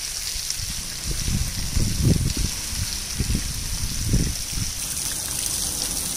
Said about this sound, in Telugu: వాటర్ ట్యాంక్ లీకేజ్ అయ్యి నీరు వృధాగా పోతోందన్నారు